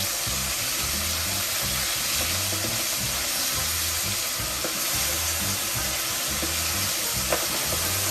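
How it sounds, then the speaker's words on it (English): Oysters dropped into hot oil at about 350 degrees sizzle and crackle steadily for several seconds, a dense continuous hiss with a few faint pops, close by and without talk. "Now we're just going to put these in the oil."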